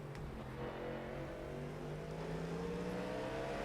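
A race car running alongside on the right in an iRacing IMSA race, its engine droning steadily and climbing slowly in pitch as it revs, close and continuous with no voices.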